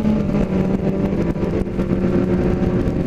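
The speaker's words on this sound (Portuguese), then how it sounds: "Eu só ouço o barulho da moto dos caras." Motorcycles fitted with 4-in-1 exhausts rumble loudly along the Estrada do Vinho road near São Roque, making a steady, close engine drone that holds throughout with no speech.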